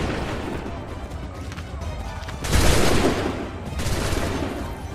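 Musket volley in the video game Assassin's Creed III, a dense crackling burst of massed gunfire swelling midway, then a second rolling volley, loud over steady battlefield ambience.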